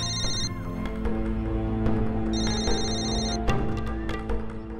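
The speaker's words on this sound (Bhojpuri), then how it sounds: "फोन आ गया।" A telephone ringing with an incoming call inside a parked vehicle while its driver works on it, the ring tones repeating in two bursts over a steady hum and other background sound.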